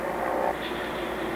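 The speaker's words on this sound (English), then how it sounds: "the sleek white Delta wing aircraft comes to rest" A North American XB-70 Valkyrie, the white delta-wing Mach 3 bomber, rolls to a stop in 1964, its engines giving a steady loud roar that eases slightly partway through.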